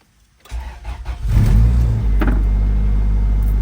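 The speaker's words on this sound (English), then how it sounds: "So now that we got everything into place, the car actually started right up with no issues." A Honda B-series engine fitted with Type R cam gears starts and settles into a steady, loud idle, with a deep continuous rumble close by and no talking.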